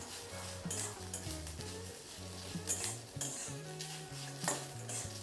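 Onion roasting in oil in a pan over a high gas flame while being stirred, with repeated spoon scrapes and clinks against the pan over a steady low sizzle, close and moderately loud throughout.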